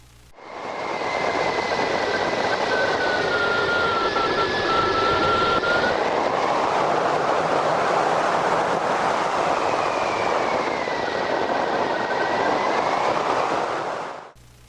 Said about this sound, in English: if you listen to the wind, you can hear the glider slow down,